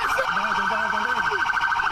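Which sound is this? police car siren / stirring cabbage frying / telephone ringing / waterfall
police car siren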